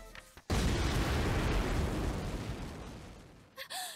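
A large explosion in the Labyrinth of Refrain video game bursts in suddenly and roars for about three seconds before fading, and a brief voiced sound follows at the end.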